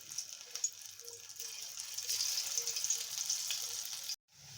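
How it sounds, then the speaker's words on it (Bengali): Pieces of lentil cake (dhoka) frying in hot oil, a steady hissing sizzle that swells and holds, close and fairly quiet, cutting off abruptly near the end. "তেলটি গরম হয়ে গেছে। এখন এটার মধ্যে দিয়ে ভেজে নেব ভালো"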